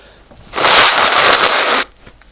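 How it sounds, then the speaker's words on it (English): A man blows his nose once in a single loud, close honk lasting over a second, with quiet room tone before and after. "Excuse me, I just need to blow my nose."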